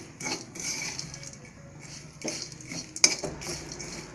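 Prawns with chili sautéing in a pan on a low flame bring intermittent metallic clinks and scrapes of a utensil against the pan, close and quiet between the clatter.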